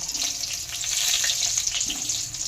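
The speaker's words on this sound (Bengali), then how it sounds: "পরের ব্যাচের বড়াগুলো এইভাবে করে সব ভেজে নেব" Fish roe fritters fry in hot oil with a continuous bright sizzle and crackle that holds steady throughout.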